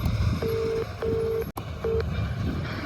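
A phone's ringback tone repeats in steady beeps with short gaps, broken briefly by a click, over a low background hum, while calling a harvester machine driver.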